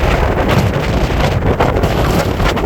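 Strong wind buffets the microphone at Bunkers Harbor in Gouldsboro, Maine, during high surf and high winds, a loud, constant roaring rumble with gusty fluctuations and no talk.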